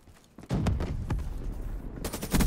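Rapid bursts of gunfire from a Peacekeeper weapon in Black Ops 3 crackle loudly, a quick volley followed by another burst near the end.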